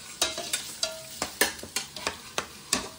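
Paneer gravy frying in a pan, stirred with a spoon that scrapes and taps about ten times in a steady rhythm over a soft sizzle, close and clear with no talking.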